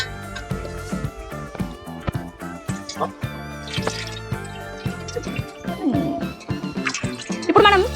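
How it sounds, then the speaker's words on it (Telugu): Water poured from a masala-coated bowl into a pan of Ankapur-style country chicken curry, with dripping, sloshing liquid sounds over background music. "ఈ మసాలాలో కొద్దిగా వాటర్ పోసుకొని కడిగి చికెన్లో పోసుకున్నాం"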